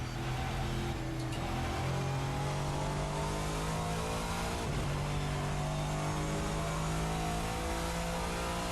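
A GT-M Lux V8 race car engine in the Assetto Corsa racing game revs loudly and continuously as the car is driven on track, with throttle rising and easing.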